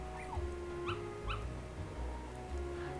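Dalmatian puppies in the Kingdom Hearts video game give several short, high whimpers and yips in a steady run over low game music, fairly close and clear.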